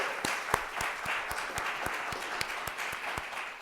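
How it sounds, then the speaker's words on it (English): A church congregation applauds the search committee, a steady round of many hands clapping at moderate distance, with some sharper individual claps standing out. "Yeah, we can clap for them, too."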